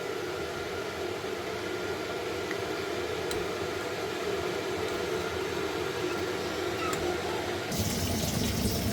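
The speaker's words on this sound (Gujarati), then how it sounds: "તો થોડુંક પાણી નાખી દઈએ આમાં" Water pours in a steady, hissing rush into a pot of mutton masala curry, continuous and fairly loud, with the sound thickening near the end.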